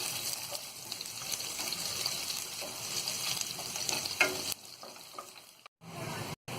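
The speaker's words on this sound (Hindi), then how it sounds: "तो ये लहसुन को भी हमने फ्राई कर लिया है।" Chopped garlic frying with cumin in a pan, a steady close sizzle running for several seconds before it cuts out briefly near the end.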